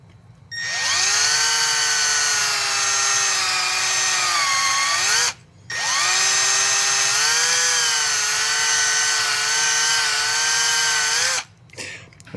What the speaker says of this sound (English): maybe a drill bit help kind of auger it out a little bit too